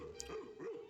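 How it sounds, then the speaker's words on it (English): A cartoon dog from the 1957 Bugs Bunny short Piker's Peak gives two quick, faint barks in under a second, with no speech. "I think this is the same kind of dog here."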